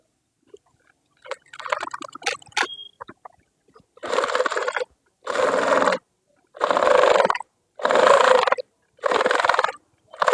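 A sewing machine stitches a shirt collar in five or six short, even bursts of whirring, close and loud, after a few scattered handling clicks.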